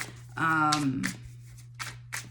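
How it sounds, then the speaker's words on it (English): A deck of tarot cards gets a quick shuffle, a short riffle and a few soft card flicks, just after someone briefly speaks, over a low steady hum. "I'm gonna shuffle these decks and see."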